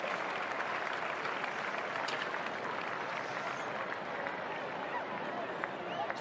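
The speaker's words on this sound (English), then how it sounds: "let's give a round of applause to our alumni, captains, and homecoming queens" A crowd at a high school homecoming football game applauds and cheers steadily, a broad, sustained wash of clapping with scattered shouts and voices mixed in.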